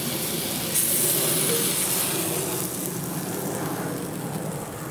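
Meat searing on its second side in a Dutch oven, a steady loud sizzling hiss that holds throughout and eases slightly toward the end, with no talking.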